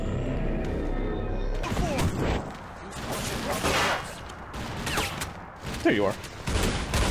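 Shotgun blasts in the time-manipulating shooter game TimeShift, heavy booming shots and crashing impacts amid chaotic battle noise, loud and close, with someone briefly talking over them.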